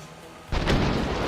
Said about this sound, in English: I love that nice explosion sound too when you get blown up